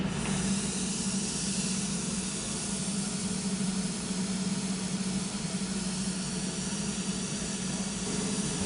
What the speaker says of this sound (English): In a minute, you'll hear the mist start coming through the system.